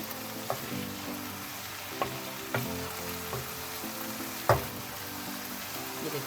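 Vegetable masala for macaroni frying in oil in a pan, a steady close sizzle with occasional spatters and stirring clinks, heard alone without talk.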